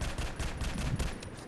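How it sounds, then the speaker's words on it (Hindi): Rapid automatic gunfire in a video game empties a magazine in a dense, continuous burst of shots, loud and close, with no talk over it. "पूरी मैगजीन खाली करने का"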